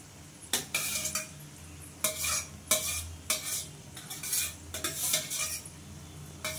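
Bombay duck (lote fish) goes into a pan with spring onion and potato, followed by repeated scraping stirs of a metal utensil over a low sizzle, in steady strokes, close and clear, with no voices.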